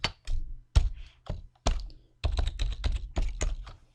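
Keys typed on a computer keyboard, close and crisp, a handful of separate taps followed by a quicker run of keystrokes, alone without talk.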